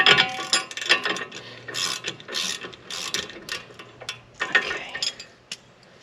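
A ratchet turns a Torx bit on a front knuckle bolt of a Tesla Model 3, giving bursts of quick metallic clicking in short strokes, close and clear, with clinks of tools between them.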